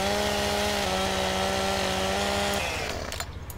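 A chainsaw in Farming Simulator 2017 cuts down a tree, its steady whining engine running loud and close for about two and a half seconds, then cutting out and leaving a few faint knocks.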